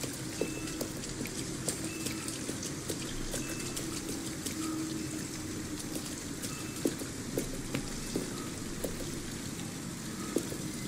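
Steady rain falls outside an abandoned house in the Detroit: Become Human game, a constant dense patter with scattered sharper drops, heard alone at moderate level.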